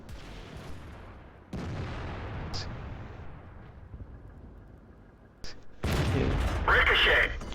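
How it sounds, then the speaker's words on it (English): A tank shell ricochets in World of Tanks, played in an M56 Scorpion: a few separate booming impacts stand out over rumbling battlefield noise, with a sharp metallic ring near the end and a voice speaking over the game. "Ricochet. Bounced."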